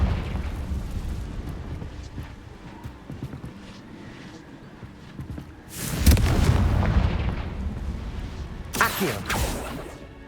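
A Confringo spell blasts in Hogwarts Legacy, a low rumbling backdrop broken by two loud booming explosive bursts, one mid-way and a sharper one near the end.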